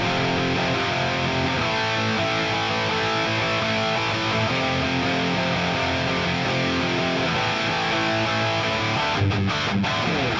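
An unprocessed electric guitar multitrack played back with the tone plugin switched off, a dense, steady, loud band of strummed chords sustained throughout with no pauses; no talking.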